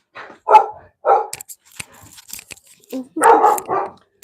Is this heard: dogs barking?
yes